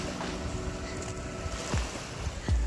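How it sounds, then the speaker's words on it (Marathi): Steady wash of sea waves with wind rumbling against the microphone on a beach at Malvan, a continuous outdoor roar with a couple of low thumps. "मस्त समुद्राचा आवाज ऐकत ऐकत"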